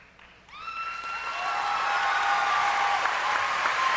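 The McKay graduating class of 2018 applauds at the ceremony, starting abruptly and swelling into sustained crowd clapping, with a few tonal whistles or cheers rising over it.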